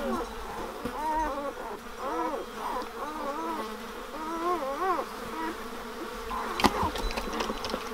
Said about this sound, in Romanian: Uitați cum a prins o muscă.